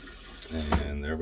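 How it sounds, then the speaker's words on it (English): Water from a hose runs into an RV black tank, a continuous rushing flow with a faint tonal hum and a brief surge partway through. "So now I'm going to just continue to run some water for about 20 seconds just to help get that mixed up down there"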